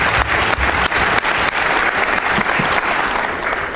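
A studio audience claps for a guest on a Vitamin Club TV show, loud close rapid applause with sharp individual claps in a steady wash throughout.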